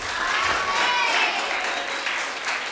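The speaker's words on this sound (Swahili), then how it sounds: "Situmongezee Yesu makofi kwa ajili ya mchungaji wetu." A church congregation applauds for the pastor, a loud mass of clapping with some voices and cheering rising over it, swelling slightly in the middle.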